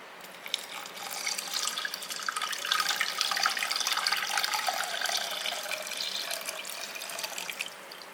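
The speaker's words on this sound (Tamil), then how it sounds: "இப்போ இந்த பாலை இதில் ஊற்றிக்கலாம்." Boiled milk pours into a pressure cooker holding rice and water, a close, bubbling liquid trickle that swells in the middle and tapers off toward the end, with no talking over it.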